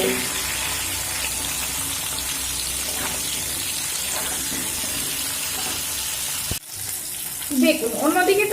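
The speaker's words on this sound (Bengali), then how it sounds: "এবার মিডিয়াম ফ্লেমে এই সবজিগুলো খুব সুন্দর করে ভেজে নেব" Carrots and other winter vegetables frying in a pan over a medium flame, an even dense sizzle that breaks off abruptly near the end and is followed by clattering and a few stirring sounds.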